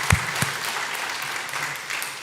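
A church congregation claps together at a worship service, a steady broadband patter of hands filling the space with a couple of sharper low thumps near the start, no talk over it.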